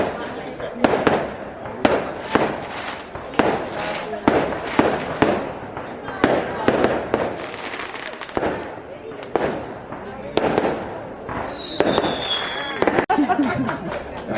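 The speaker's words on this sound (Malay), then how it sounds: "Terima kasih kepada yang bakar mercun." Firecrackers and fireworks set off at a New Year's Eve 2020 gathering in Kampung Tambak Paya, Malaysia: rapid, loud cracking bursts repeating throughout, with whistling rockets near the end, under crowd chatter and talk.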